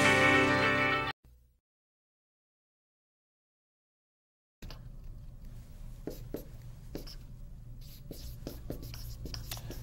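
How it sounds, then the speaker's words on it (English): Handwriting scratches from a pen moving across paper, soft close strokes in short irregular bursts after a stretch of silence, following a brief spoken introduction at the start. "Just to write it out a bit more."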